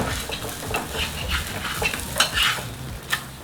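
Vallarai adai frying in oil in a pan on a low flame, giving a soft, steady sizzle with light crackles and a few brief scraping clinks, close by and fairly quiet, no voices.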